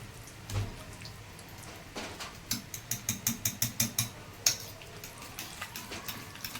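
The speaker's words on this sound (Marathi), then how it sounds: "हे मी 200 ग्रॅम दही घेतले. हे आता आपण असं थोडं फेटून घेऊया." Curd, 200 grams, whisked in a bowl for a rajma tikki chaat: a run of quick, evenly spaced scraping clicks, close and moderately loud, building to a steady rhythm and then trailing off.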